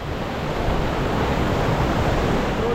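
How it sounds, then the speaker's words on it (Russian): A steady, loud broadband roar of rushing water from a 72-metre-high waterfall in Pakistan fills the whole stretch without pause, dense and close, with no voices. "очень большой водопад, высокий"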